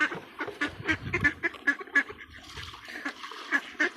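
Several ducks quack repeatedly in quick, irregular bursts at moderate distance, with a few honk-like calls mixed in.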